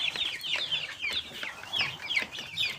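Joper chickens cluck steadily in a farm coop, a flock of overlapping short calls repeating in a busy, close rhythm with no talking.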